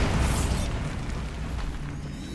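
A Bombarda blasting spell explodes in the Hogwarts Legacy catacombs, one loud boom up front followed by a rumbling, crumbling decay that fades slowly.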